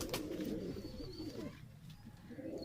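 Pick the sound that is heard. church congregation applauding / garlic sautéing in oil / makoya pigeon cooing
makoya pigeon cooing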